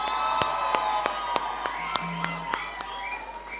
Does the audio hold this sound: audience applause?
yes